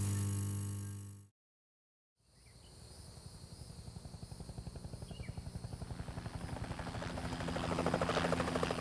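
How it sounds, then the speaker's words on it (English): A hijacked helicopter flying over a tree line outside Marion Penitentiary, a steady rotor chop that starts after a brief silence and grows gradually louder and nearer, alone with no talking. "the hijacked helicopter crested the tree line outside Marion Penitentiary"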